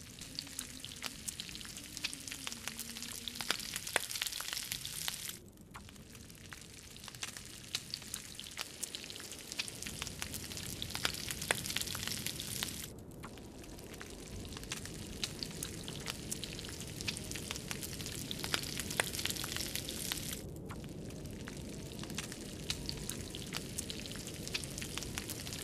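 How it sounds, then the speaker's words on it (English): Meat sizzles and fries over a campfire in the survival game The Long Dark, a steady crackling hiss with scattered pops running throughout, fairly loud and close with no talking. "I'm gonna use your fire for a second to cook up my meats."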